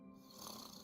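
A soft, short snore sound effect from the Minecraft video game: one quiet drawn-out breathy rasp that swells slightly and then holds.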